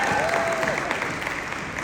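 Audience applause fills the room, a steady wash of clapping from a crowd that holds evenly through the moment without pause, loud and continuous with no talk over it.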